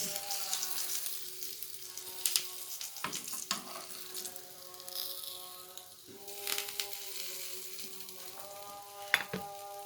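Fish fillets fry in hot oil with a steady, close crackling sizzle, broken by a few sharper pops and bursts as pieces are moved in the pan.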